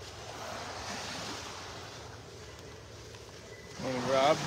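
Gentle ocean waves washing onto a beach in North Naples, Florida as the tide starts coming in, a steady soft surf wash with wind noise and a brief voice near the end.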